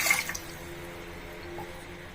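Two glasses of water are poured into a pressure cooker holding toor dal for sambar. It makes a soft, steady pouring and trickling sound that stays fairly quiet, with a slightly brighter splash at the start.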